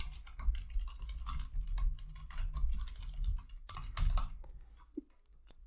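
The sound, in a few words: typing a command on a computer keyboard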